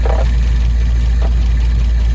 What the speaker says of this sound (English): It's actually idling all right.